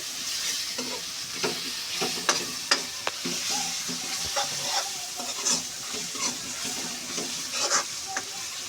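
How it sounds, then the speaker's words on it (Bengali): Onions frying and sizzling in a pan for masala chicken lollipop, with steady close crackle and repeated stirring scrapes throughout, no talking. "এখানে আমাদের পেঁয়াজটা হালকা মজে গেছে"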